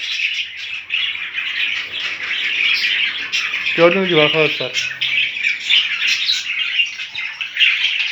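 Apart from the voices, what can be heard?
budgerigars chirping in home breeding cages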